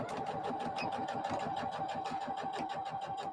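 Domestic sewing machine stitching a back stitch while quilting, a steady rapid whirring drone with fast repetitive needle clatter running evenly throughout, close and fairly loud.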